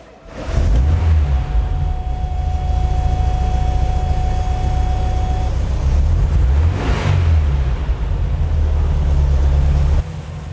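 A 1979 Volkswagen Beetle convertible with 8,000 original miles runs steadily while driving, its low engine drone and road rumble loud and continuous for about ten seconds, with no talking.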